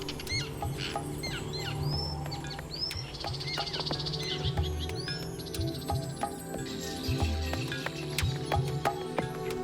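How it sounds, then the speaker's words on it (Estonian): Terns call loudly and repeatedly by a lake, sharp ringing cries coming in quick succession over a busy background of other bird chirps. "Tiirud annavad valju häälega ülekohtust märku."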